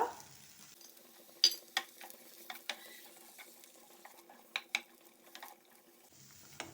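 Mushrooms for white sauce pasta are stirred in a pan, a quiet backdrop broken by about a dozen sharp spoon clinks and scrapes at irregular intervals, close by with no speech.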